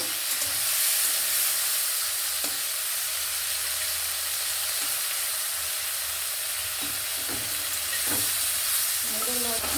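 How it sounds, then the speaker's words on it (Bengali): Prawns frying in a pan give off a steady, loud broadband sizzle that holds throughout, with a few faint scrapes and clicks of stirring near the end and no speech. "হালকা লাল লাল ভাজা হয়ে গেছে, আর একটু ভাজতে হবে"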